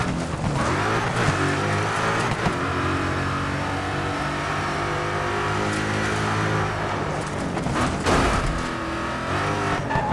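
Car engine in Dirt Showdown revs hard and sustained while spinning donuts, harmonic whine rising and falling with tire squeal and brief bumps, loud and close throughout.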